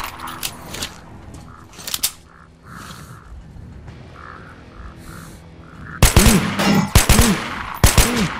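Gunshots in a shooting video game with a sniper rifle: scattered sharp cracks early on, then a few loud, close, heavy blasts near the end, with quieter ambient game sounds between.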